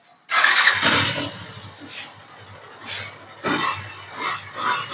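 A used motorcycle at a second-hand bike fair starts with a sudden loud catch, then runs and is revved in several short bursts with idle between them, close by and outdoors.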